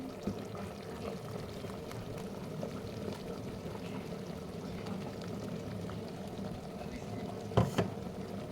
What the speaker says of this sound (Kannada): ಆ ಖಾರನ ಹಾಕ್ತಾಯಿದ್ದೀನಿ.